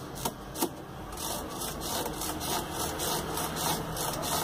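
An Electrolux LF11 washing machine running a wash cycle with a faulty noise: a continuous rough grinding, rasping rumble with a few louder knocks near the start, steady and close, with no voices.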